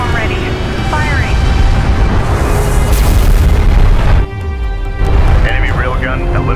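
Orbital platform weapon firing in Homeworld: Deserts of Kharak, a massive sustained roaring blast with deep rumbling booms, cutting off abruptly before another heavy rumble builds, while a radio voice speaks over it.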